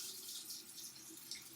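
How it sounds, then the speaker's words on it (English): A sink faucet runs in a steady, bright hiss of flowing water, close and moderately quiet, with no voices. "turn on the faucet."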